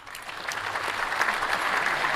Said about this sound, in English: I can't stop the crowd from reacting, Renee.